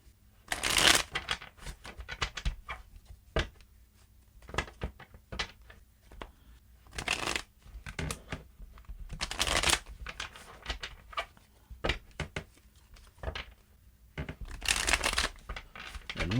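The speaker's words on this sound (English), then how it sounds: "Three more shuffles and let's begin." Tarot cards being shuffled in repeated bursts of riffling and flicking, close and crisp, with brief pauses between runs and no talking.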